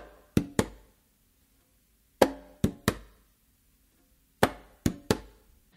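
Conga tumbao strokes: sharp hand hits in three clusters of three, an open tone followed by quick slaps, close and dry with silence between groups, no voices.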